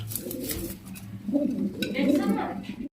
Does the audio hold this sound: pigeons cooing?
yes